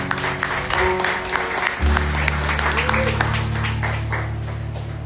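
Church congregation clapping in praise of the Lord during a sermon, steady applause over a low sustained organ or keyboard tone, with some voices mixed in.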